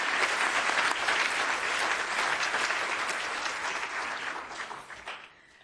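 An audience at a business ethics forum applauds in sustained, dense clapping that fills the room, then gradually tapers off at the end.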